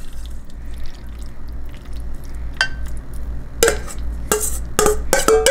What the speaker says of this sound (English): And go ahead and carefully pour it into your casserole dish.